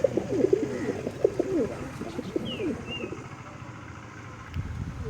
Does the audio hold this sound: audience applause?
no